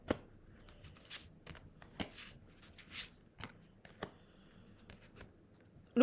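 Tarot cards are shuffled close up in a quiet room, a run of soft riffling snaps and taps in irregular bursts, with no talking.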